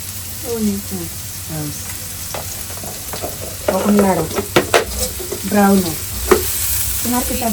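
Potatoes for aloo bhaji fry in a pan with a loud, continuous sizzle and repeated stirring scrapes, while people talk intermittently over the cooking.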